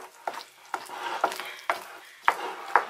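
A thick strawberry fudge mixture with white chocolate is stirred in a pot, giving a series of scraping strokes and sharp clicks of the utensil against the pan, close up with no talking.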